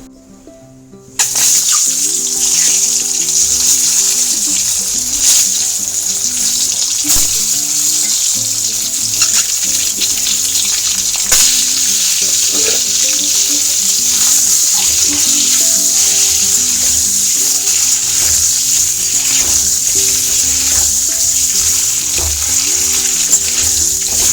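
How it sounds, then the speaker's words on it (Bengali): Halved boiled eggs fry in hot oil with turmeric in a wok, giving a loud, steady sizzle that runs unbroken from the first second to the end, with no talk over it. "এই তেলের মধ্যে একটু হলুদ দিয়ে ডিমগুলোকে সব ভেজে নেবো"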